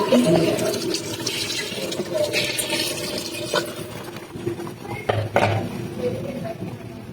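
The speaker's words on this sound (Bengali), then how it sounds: "এখন একটু জল দিয়ে দিচ্ছি আমি উপর" Water poured into a pot of beef curry with chickpeas in a home kitchen, a steady splashing pour with some clatter of utensils and background noise, with someone talking over it.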